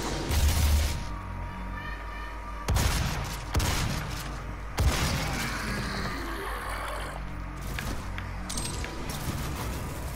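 Gunfire in the shooter game Doom, heard as a few sharp shots over a dense, noisy game soundscape with low rumbling and clatter throughout.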